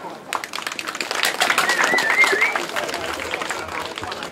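Audience clapping at an outdoor market fair in Vääksy, Asikkala, a dense, steady patter of many hands swelling after a moment and holding through the end, moderately loud with crowd ambience around it.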